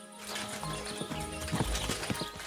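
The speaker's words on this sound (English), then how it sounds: "Where's my horse?" Horse hooves clip-clop in a quick, uneven rhythm over a steady low rumble in the video game Kingdom Come: Deliverance 2, fairly close, with no talking.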